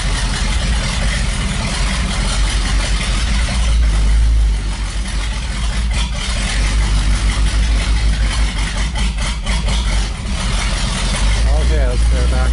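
An engine idles after a cold start with a steady, loud, low rumble running unbroken throughout, while people talk over it.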